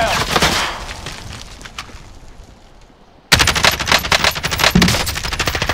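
Rapid machine-gun bursts from a video-game firefight rattle loud and close, fading to a quieter stretch before a sudden, dense volley resumes and keeps going to the end.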